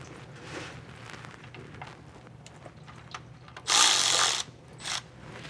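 Ratchet backing out the bolts on a car's transmission pan during a transmission swap: quiet scattered clicks and handling noise, then a loud burst of ratcheting near the end followed by a brief shorter burst.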